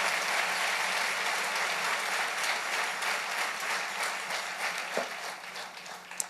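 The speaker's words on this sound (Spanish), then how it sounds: "denle un aplauso al Rey" A church congregation breaks into sustained applause during a worship service, thick steady clapping that thins slightly toward the end, with a couple of sharper knocks, and no voices over it.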